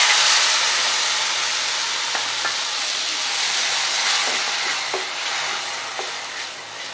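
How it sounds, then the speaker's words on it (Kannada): Ground tomato hits hot oil with browned onions in a pan, giving a steady, loud, bright sizzle that slowly softens over several seconds, with a few faint clicks of stirring. "ಈರುಳ್ಳಿ ಕೆಂಪಗಾಗಿದೆ, ಈಗ ಇದಕ್ಕೆ ರುಬ್ಬಿರೋ ಟೊಮೆಟೊ ಹಾಕುತ್ತಿದ್ದೀನಿ"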